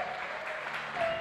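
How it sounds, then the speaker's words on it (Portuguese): A church congregation claps in praise during a sermon, a dense steady patter of many hands filling a short moment at close range. "Cadê as palmas para Jesus?"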